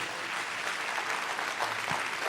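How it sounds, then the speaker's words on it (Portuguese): A congregation claps for Jesus at the close of a church sermon, sustained, fairly faint applause that fills the room evenly, with a brief thump near the end. "Aplauda Jesus"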